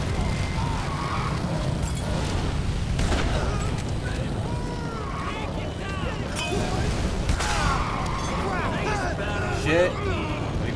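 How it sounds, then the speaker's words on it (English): Vehicles exploding and guns firing in Dead Rising 3 during motorcycle chaos: a continuous dense wash of booms and shots at steady loudness for about ten seconds, with someone talking over much of it. "And vehicles exploding left and right"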